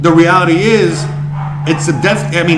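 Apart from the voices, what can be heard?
No everyday noises stand out.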